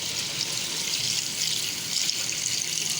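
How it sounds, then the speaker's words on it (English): Water pours into a cooking pot holding boiled lentils and long gourd for chana daal, making a steady, close rushing splash that runs unbroken for the whole stretch, with no talking. "Now we will add the water."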